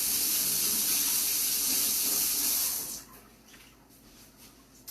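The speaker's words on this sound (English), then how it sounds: "I'm gonna wash my hands since I just ate food." A kitchen sink tap running full while hands are washed, a loud steady rush of water for about three seconds that then cuts off, leaving a few quiet drips and clinks.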